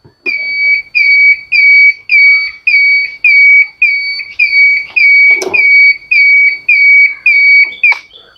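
Indicator buzzer on a modified electric scooter, sounding as a steady run of about fourteen loud, evenly spaced electronic beeps, each a short two-tone chirp, with a brief clunk partway through.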